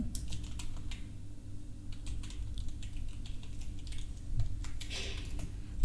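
Rapid, irregular typing on a computer keyboard, light clicks and clatter running steadily throughout, close by, over a low constant hum with no speech.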